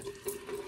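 A bathroom tap runs steadily into a sink as water is splashed up to wet the face before a shave, giving a close, continuous hiss with a faint ringing tone.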